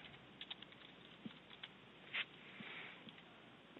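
Light, sparse keystrokes on a computer keyboard during CAD drafting, a few soft taps and short bursts in a quiet room, ending with a sharper key press.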